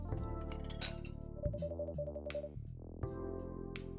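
A glass of water is set down in the cafe game Coffee Talk, a few bright clinks and taps of glass standing out over soft background music and chimes.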